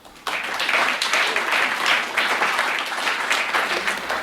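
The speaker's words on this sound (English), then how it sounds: "please give a big round of applause for Jesse" An audience at a book talk bursts into loud, sustained applause after a brief quiet moment, many hands clapping together without letting up.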